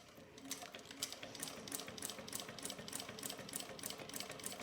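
A sewing machine with a walking presser foot stitches in an even, rapid rhythm of regular mechanical ticks, steady and close throughout, with no talking.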